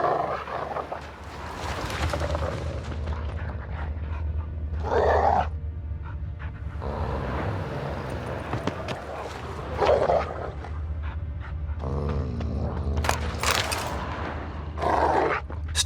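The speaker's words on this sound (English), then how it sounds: "Just beware of the dogs." Dogs in The Witcher 3 game growling and barking in repeated snarling bursts, close and loud over a low rumbling game backdrop.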